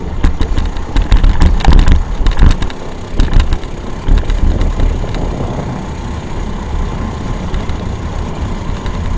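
A customized Tao Motor Baja Sprinter go-kart engine throttles unevenly as the kart bounces over bumps, with irregular bursts and rattling clatter over a steady engine drone.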